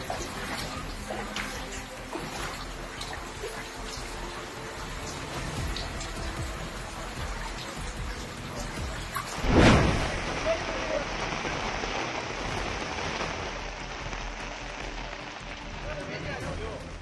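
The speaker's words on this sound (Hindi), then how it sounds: "राजस्थान के सीकर में भी लगातार बारिश हो रही है" Steady rain falls continuously over a street in Sikar, Rajasthan, a constant hissing patter with a brief louder burst partway through, while a voice talks over it.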